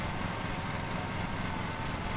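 Lawn mower engine in Lawn Mowing Simulator being revved up, a constant buzzing drone that holds steady and fairly loud throughout, heard alone.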